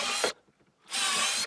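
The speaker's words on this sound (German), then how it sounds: "Da bohre ich jetzt mal Löcher durch." A power drill bores holes through a wooden handle in two loud, close bursts, a short one and then a longer steady one, with a quiet gap between them.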